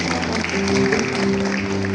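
Sustained applause from students and parents at a high school ceremony, a dense, loud wash of clapping with a low hum or tonal drone running underneath throughout.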